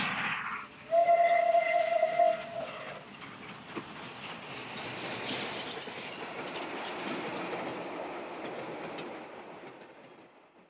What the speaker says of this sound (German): Ein Bahnhof bei Wien